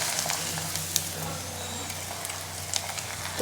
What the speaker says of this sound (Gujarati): પાપડ તળીને તૈયાર કરી લેવાના છે